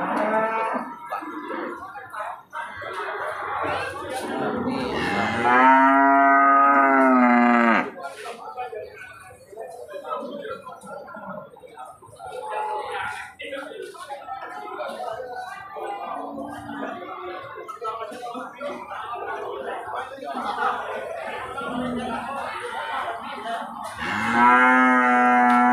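Cattle moo loudly at an open-air cattle market, with two long, strong calls near the start and another at the very end, while people talk steadily in between and over the crowd noise.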